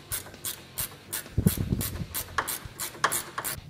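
Hand ratchet tightening 13mm nuts onto motor mount studs during a Polaris RZR XP 4 Turbo prop shaft install, a steady run of about a dozen crisp clicking strokes, close and alone with no talk.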